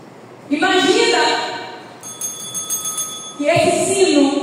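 A bell rung in a church setting during a ministry service, ringing with sustained tones that linger between a woman's loud speech at the start and end.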